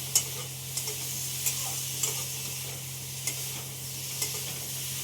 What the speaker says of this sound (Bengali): আমরা আসলে অল্প তেলে খাই বলে একটু অল্প তেলেই ভেজে নিচ্ছি।